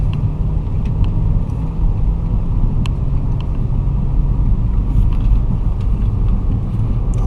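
An automatic car driven by a student during a driving lesson on a bypass road gives a steady, loud interior engine and road rumble while accelerating, without talk.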